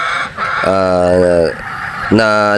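Game farm chickens clucking and calling nearby in loud, drawn-out bursts, with a person speaking briefly underneath.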